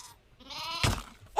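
Goats bleating in Minecraft 1.17, two nasal, wavering calls close by with a short gap between them, heard alone without talk.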